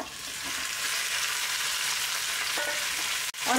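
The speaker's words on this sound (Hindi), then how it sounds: "और बस 2 से 3 मिनट तक ही हमें इसे फ्राई कर लेना है प्याज में" Boiled mutton fries with golden onions over a lowered gas flame for Kabuli pulao. A steady, close sizzle runs throughout, and a brief stirring scrape and clatter comes near the end.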